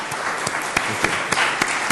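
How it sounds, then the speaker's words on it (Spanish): A press-conference audience at the 2009 Gijón film festival applauds guest director Babak Jalali, giving dense, loud, steady clapping with a few sharper individual claps standing out, and no voices over it. "os pido por favor un aplauso para el director invitado"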